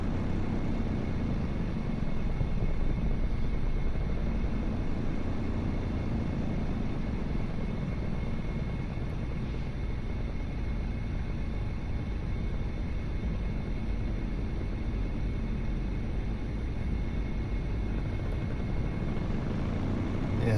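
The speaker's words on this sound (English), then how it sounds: "you hear me give it a little gas to extend my landing run there" A small airplane's engine drones loudly and steadily through a landing run, a dense continuous roar that swells slightly early on as throttle is added, with no voices.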